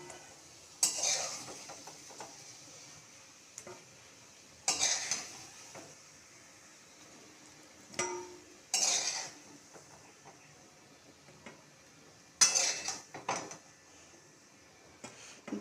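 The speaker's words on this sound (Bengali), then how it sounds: "আস্তে আস্তে আপনারা ভাজা আলু তুলে রাখবেন।" Fried potatoes for aloo dum being lifted out of a pan with utensils into a separate bowl: several separate bursts of metal scraping and clinking spaced a few seconds apart, with quiet gaps between them.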